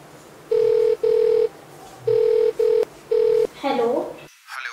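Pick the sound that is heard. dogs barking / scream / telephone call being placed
telephone call being placed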